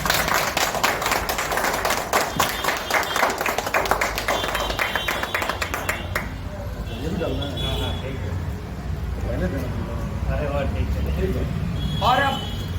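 A crowd at a JMM party workers' celebration in Mango, Jamshedpur claps hard in a loud burst of sharp, close claps for several seconds, then fades into chatter and voices with traffic-like background noise.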